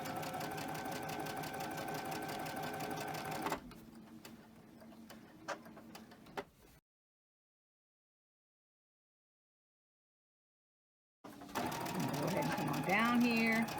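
A sewing machine stitches cotton fabric with a steady mechanical whir, then runs lighter and slower, falls silent for a few seconds, and starts again while a person talks.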